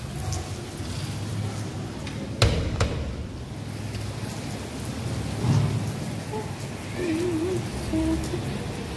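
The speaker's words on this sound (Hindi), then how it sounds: "ये तो गाइस देखो गाइस बहुत तेज बारिश हो रही है।" Heavy rain pouring steadily outdoors, with thunder rumbling low and a couple of sharp cracks early on, while a person talks intermittently over the downpour.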